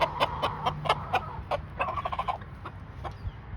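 Chickens cluck in a run of short, close, repeated calls, fairly quiet, with no talking over them.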